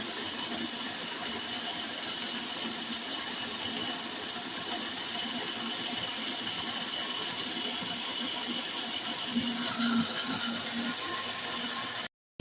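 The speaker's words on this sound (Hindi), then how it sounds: "इसको मैं पीसूंगी।" A kitchen mixer grinder runs continuously, grinding onion, garlic and ginger with a little water: a loud, steady high whir with a rattling undertone that holds evenly for about twelve seconds, then cuts off.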